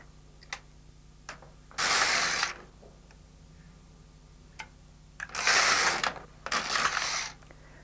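An LK150 knitting machine carriage sliding back across the needle bed, three loud, close rasping passes of about a second each, separated by small clicks and faint mechanical ticks over a low hum.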